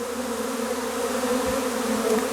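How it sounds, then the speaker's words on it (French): A honeybee swarm drawn toward the queen's pheromone fills the air with a dense, steady buzzing hum, close and continuous, with individual bees whizzing past the microphone. "la frénésie des abeilles"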